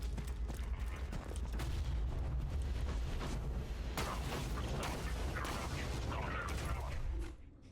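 Explosions blast apart a train in the video game Borderlands 2, a dense, sustained roar of booms and crackling debris with gunfire-like bursts, loud throughout before dropping off near the end, with speech faintly mixed in.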